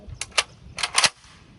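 Romanian PSL 7.62 mm semi-automatic sniper rifle firing outdoors, heard as sharp cracks and echoing reports, with two quick bursts of energy rather than one clean bang, moderately loud at a distance.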